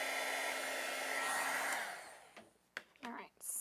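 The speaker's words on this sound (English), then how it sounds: "I'm going to use the heat tool because on vellum it does take a little bit longer to dry" A heat tool blowing hot air to dry alcohol marker ink on vellum paper, a loud steady whooshing hum that winds down and stops, followed by faint handling sounds.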